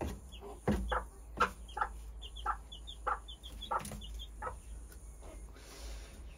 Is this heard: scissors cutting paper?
no